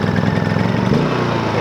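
A portable generator on a 2004 Four Wheel Camper Hawk runs loud and steady, a dense mid-pitched engine drone with a constant rattling throb and no voices.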